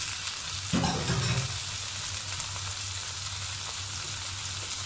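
Chopped tomatoes land in a hot pan of caramelized yellow onions for nasi lemak sambal, giving a brief louder hiss before a steady, soft sizzle and crackle of frying continues alone.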